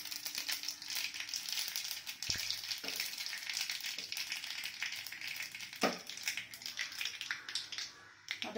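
Steady close-up sizzling and crackling of mustard seeds popping in hot ghee, with occasional sharp taps.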